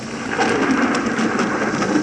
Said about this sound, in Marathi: आषाढाचा धोधो पाऊस सुरू झाला होता.